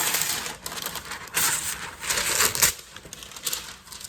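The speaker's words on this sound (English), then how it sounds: "sorry, that was loud. That's parchment paper." Parchment paper for baking cookies crinkles and crackles up close in bursts of bright rustling, loudest around the middle, with no talking over it.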